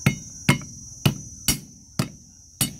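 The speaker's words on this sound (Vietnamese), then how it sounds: "Và gừng này thì mình cũng đập dập luôn." Home-grown ginger, washed and partly peeled, is smashed on a cutting board with six sharp, evenly spaced thuds, each loud and close with a quick decay, and no talk.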